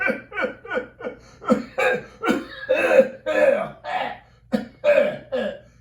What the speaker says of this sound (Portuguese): Não se preocupem, eu sempre tossi assim.